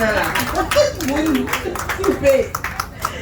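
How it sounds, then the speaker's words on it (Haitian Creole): An audience at a talk on the new generation of orthoptists claps in scattered bursts, mid-distance, while voices keep talking over the applause. "on l'applaudit"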